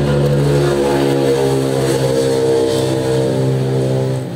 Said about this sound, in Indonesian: mohon maaf ini suara motor kencang betul ya.